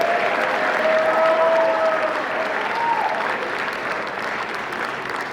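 Sustained applause from an audience at a football awards ceremony honoring the senior class, steady and fairly loud throughout with a brief whistle near the start.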